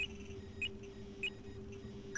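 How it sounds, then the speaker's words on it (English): Paper Mario: The Thousand-Year Door mail-sent effect, a few short bright chime-like blips spaced through the clip over a steady low hum, fairly faint with no talking. "That's how you know the mail went,"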